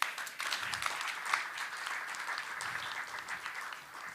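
Applause at a startup demo day, continuous crowd clapping throughout, fairly quiet and even, with no voices over it.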